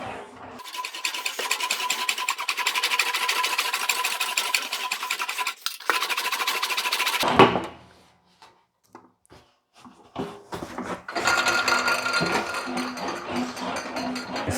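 A steel roadster rear quarter panel being rolled through an English wheel gives a steady, close metallic grinding rumble for several seconds, a brief pause, then scattered clicks and knocks before the rolling resumes.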